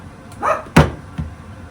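A pet dog indoors lets out a couple of quick barks, one louder and one softer, in a quiet household.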